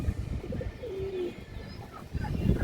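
Chila pigeons coo in low, rolling murmurs close at hand, a continuous flock sound with a brief higher chirp in the middle.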